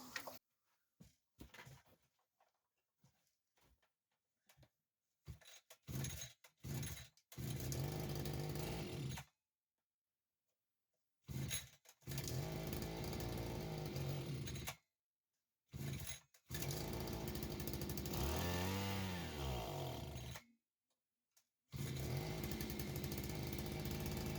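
A SADKO GTR-2200 petrol brush cutter rated at 2.2 hp sputters through a string of short starting bursts. It then catches and runs loudly in long, steady stretches broken by brief pauses.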